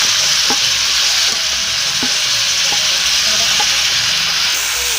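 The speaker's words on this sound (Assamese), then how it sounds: "এতিয়া ধুনীয়াকৈ লাৰি দিব লাগিলে এয়া ধুনীয়াকৈ মিশ্ৰণ হৈ গ'ল" Goat mutton curry stirred in a pan with ground coriander, cumin, garam masala, red chili, garlic, onion and ginger, a steady close sizzle and hiss with spoon scrapes recurring at intervals throughout.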